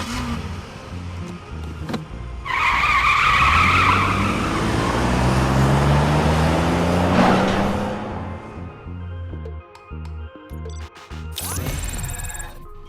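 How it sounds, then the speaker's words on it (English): A police car in the RoboCop: Rogue City video game peels out with a sustained tire squeal and revving engine, then bottoms out with a sharp clunk on a ramp, loud and close. "He peels out and then bottoms out the car on the ramp up."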